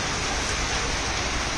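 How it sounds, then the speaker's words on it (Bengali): Heavy rain falls in Netrokona after intense heat, a loud, steady, close hiss that fills the short stretch without a break and without voices. "আল্লাহর অপর রহমতে আমরা বৃষ্টি অনুভব করছি।"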